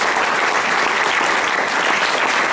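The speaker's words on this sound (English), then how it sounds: "I would also hope that you would give a round of applause for all these candidates" An audience at a county commissioner candidate forum applauds steadily, a dense, even clatter of many hands clapping without a break.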